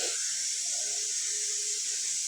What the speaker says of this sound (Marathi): टोपामध्ये लोण्याचा गोळा टाकून गॅस चालू केलेला आहे. लोण्याचा गोळा आता वितळतोय.